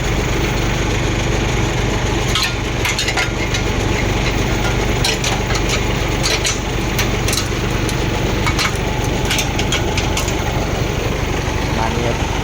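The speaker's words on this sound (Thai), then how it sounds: "ดูเสียงเครื่องอ่ะทุกคน เนี่ยติดเครื่องแล้วนะเนี่ยดูอะเสียงเครื่องเขา" A Rocky FXZ-260 truck engine running at idle, a loud, continuous close rumble with rattling and scattered metallic clatter layered on top.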